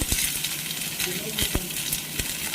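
Chopped onion, garlic and green chilli sizzle in a small amount of hot oil, a steady close crackle broken by several sharp clicks of a spoon against the pan.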